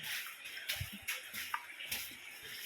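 Water trickling and splashing through the low, dark passages of Arwah Cave, a steady faint wash with soft gurgling pulses and a few brief drips, no voices over it.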